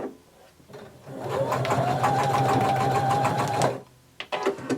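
A sewing machine stitches ribbon onto elastic in one steady, close run of about two and a half seconds, a hum with a rising whine, bracketed by quieter handling noises before and after.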